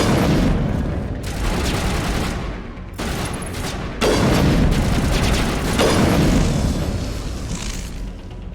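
Big bomb blasts in the video game Mass Effect Legendary Edition: loud, dense rumbling explosions with broadband crackle, surging in several waves across the clip, close and continuous without pauses.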